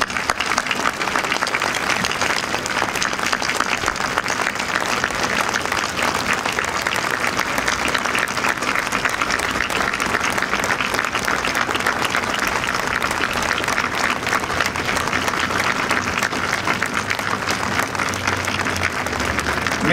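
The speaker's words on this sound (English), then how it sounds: "Please welcome them warmly with your applause." Sustained audience applause welcomes Holodomor survivors at a memorial dedication in Washington, DC: dense, steady clapping from a large crowd continuing for the full twenty seconds without a break.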